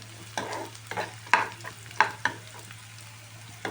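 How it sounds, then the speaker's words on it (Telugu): Masala pasta sizzles in a pan on medium-high heat while a spoon scrapes and stirs it in a few distinct clanking strokes over a steady frying hiss. "ఇది ఒక 2 మినిట్స్ వేగనివ్వాలి."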